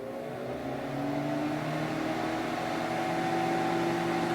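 A microwave oven's circulation fan runs with a steady, close hum and whir, the magnetron not switched on, holding an even drone throughout without talking.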